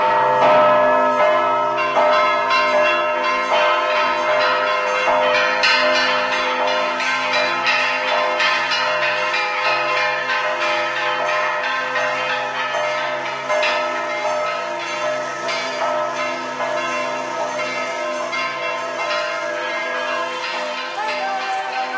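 Church bells ring out continuously with rich, layered overtones, a dense steady peal that carries across the whole stretch without pause.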